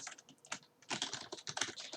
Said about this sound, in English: You can probably hear Nick typing on his keyboard.